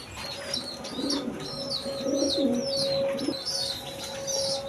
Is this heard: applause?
no